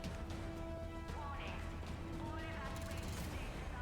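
Exploding-bullet gunfire from Mass Effect 3 Legendary Edition: scattered, sharp bursts of shots crackle through a steady bed of tonal game music and effects, with a voice talking over it.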